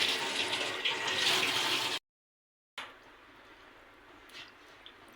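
Tap water runs steadily over a vegetable (kalyan) being washed in a kitchen sink, loud for two seconds, cut off by a short gap, then continuing as a fainter wash with small splashes.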